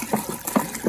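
Water gushes and splashes in uneven bursts as it is poured into a container for a potato vodka mash, loud and close for about a second.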